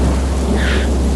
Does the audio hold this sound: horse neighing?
no